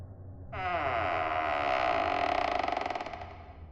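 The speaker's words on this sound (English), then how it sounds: "we heard the back gate creak open." A long, drawn-out creak, like a gate slowly swinging open, loud and close, lasting about three seconds with nothing else over it.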